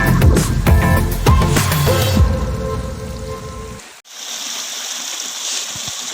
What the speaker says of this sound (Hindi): पानी जो पीछे बड़ा सुकून से और शांति से आ रहा था, तो काफ़ी स्पीड इसकी यहाँ पे बढ़ गई है